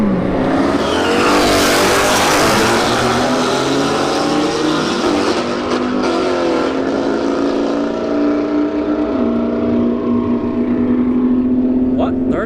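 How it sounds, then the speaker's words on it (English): Camaro SS and Porsche 911 Turbo drag racing at a motorsports park strip, loud roaring engines at full throttle, with rising gear-change tones and a commentator talking over the continuous racing noise. "All right, we got a Camaro SS, left lane, and a Porsche"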